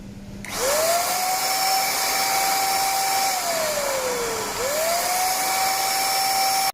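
A loud, steady whine of an Orion ESG CX31-380 electric paint spray gun blowing air, sagging in pitch midway, then climbing back and holding, running continuously with no talking.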